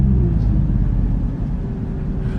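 Deep, steady engine rumble from a salvaged Mercedes C63 cruising on the road, heard from inside the cabin, loud and continuous with little change in pitch and no talking.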